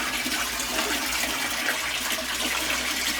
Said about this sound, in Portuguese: Aqui ela está despejando toda a água que tem no seu interior.